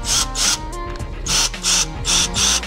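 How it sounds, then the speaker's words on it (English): A Ryobi cordless drill bores holes into the handle of a rusty antique plow, its motor whirring in several loud bursts with short pauses between, close by. "obviously we're gonna use our Ryobi cordless drill"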